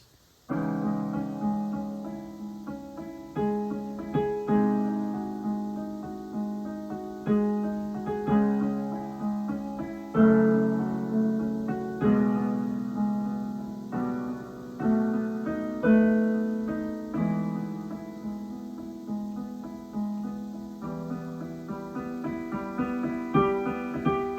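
Piano plays the held notes of Beethoven's Moonlight Sonata, first movement: a steady series of chords and sustained notes, each strike ringing and decaying in a gentle, repeating rhythm; no voices.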